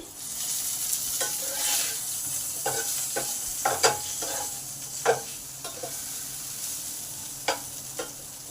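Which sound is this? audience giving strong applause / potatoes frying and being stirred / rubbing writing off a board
potatoes frying and being stirred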